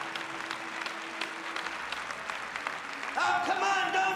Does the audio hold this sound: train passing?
no